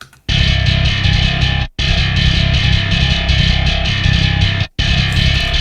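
Heavily distorted bass tone through a guitar amp plugin in Logic Pro X, a sustained gritty metal drone with two brief cuts where the notes stop and restart.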